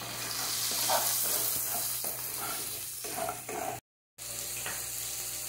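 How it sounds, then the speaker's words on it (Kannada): A spoon stirs ground masala powder into a cheeni mango curry in a hot pan, giving a close scraping and soft sizzle in uneven strokes, with a brief silent gap near the end. "ಚೆಂದ ಮಾಡಿ ಮಿಕ್ಸ್ ಮಾಡ್ಕೊಳ್ಳೋಣ"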